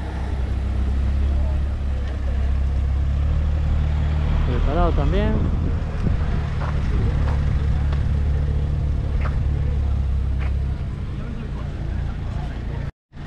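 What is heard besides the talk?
rally zero car at the start line of the Jaizkibel hill climb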